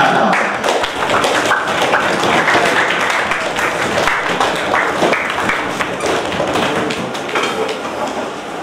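An audience at a career guidance seminar for matric students claps to welcome a guest speaker, a loud, uneven patter of hands with some heavier thumps, continuing steadily and easing slightly toward the end.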